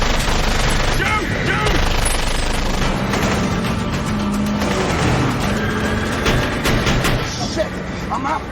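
Automatic gunfire from a film shootout in a minefield finale, a dense, continuous wash of loud shots and engine-like rumble over the whole stretch, with voices shouting underneath.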